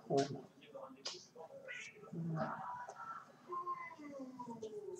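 A sick, hairless female cat meows several times, close and fairly faint, while someone talks over it in a quiet room.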